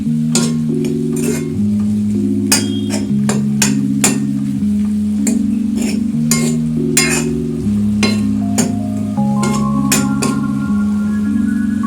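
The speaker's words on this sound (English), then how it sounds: "We are cooking lady finger oil." Okra and potato with spices fry in oil while being stirred, with a steady sizzle under repeated sharp clinks and scrapes of a utensil against the pan, close and fairly loud, with no talking.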